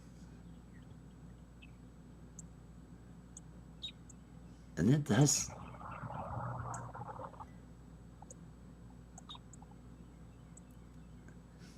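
Short, high bird chirps sound outside at scattered intervals, faint and distant, while a person speaks briefly nearby in the middle.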